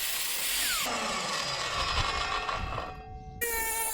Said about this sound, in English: I just use the circular saw with a long bit of board as a guide